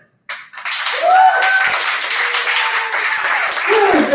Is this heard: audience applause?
yes